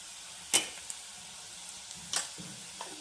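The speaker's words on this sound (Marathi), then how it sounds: "मी कांदा परतून घेते चांगला, हिंग टाकून घेते." Onion frying with asafoetida in a pan, a low steady sizzle broken by two sharp scraping strokes of a spatula, close and alone.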